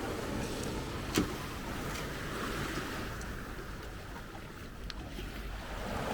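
A boat's motor drones steadily beneath broad rushing noise of water and wind off Lovina, Indonesia, with a brief sharp knock just after the first second.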